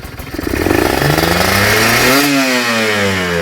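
A Kawasaki KSR motorcycle engine fitted with a new carburettor revs up sharply from idle, climbing in pitch and holding a loud, close, buzzing high-rpm drone with no talking.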